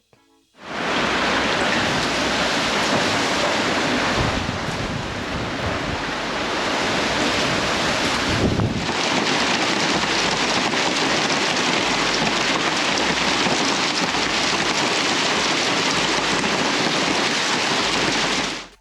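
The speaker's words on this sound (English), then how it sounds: "Let's have a look at some storm footage." Heavy rain in a big suburban storm, a steady loud broadband roar of downpour and wind lasting throughout, with a brief louder gust or burst near the middle and no voices.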